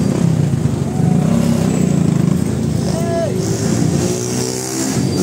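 Dense road traffic crawls through a crowded religious procession in Biñan, Laguna, with a steady rumble of car and motorcycle engines, a brief horn-like tone midway, and murmuring voices throughout.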